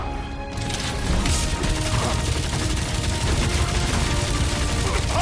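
Sustained gunfire in the video game Guardians of the Galaxy during a battle, a dense, continuous rapid-fire barrage with crashing impacts, loud and steady throughout, with no speech over it.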